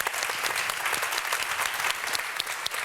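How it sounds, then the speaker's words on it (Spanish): A conference audience applauds the speakers at the close of a panel on renewable fuels, a steady, dense wash of clapping that stays loud throughout with no voices over it. "Por favor, un aplauso para los ponentes"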